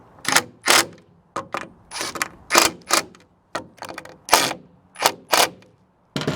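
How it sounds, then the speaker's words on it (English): An impact wrench tightens plastic bed extender bolts on a GMC Sierra or Chevy Silverado truck, firing in about a dozen short, loud, rattling bursts separated by brief pauses. "I'm just going to turn up the impact here, make sure that I get everything nice and snug"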